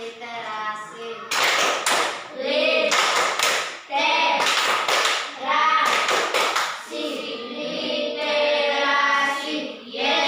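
Primary school pupils in a classroom perform a rhythmic group clap in bursts of sharp, synchronized hand slaps, mixed with children's voices chanting along between the beats.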